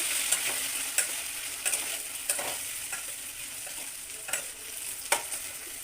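Chili sauce and tomato sauce sizzle in a hot pan while cabbage is being cooked, a steady crackling hiss punctuated by repeated scraping stirs of a spoon, close and moderately loud.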